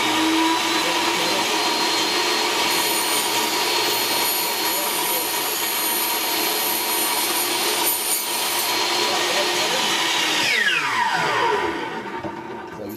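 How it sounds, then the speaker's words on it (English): A miter saw cutting a section of polycarbonate sheet for an aquarium lid, a loud, steady whining roar held for about ten seconds, then a falling pitch as the blade spins down and the noise fades. "I'm just going to cut this little section right here."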